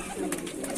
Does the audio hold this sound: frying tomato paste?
no